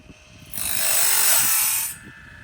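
A sawmill blade being sharpened on a grinder, heard from a distance as a steady rising-and-falling grinding hiss lasting about a second and a half over a quiet background.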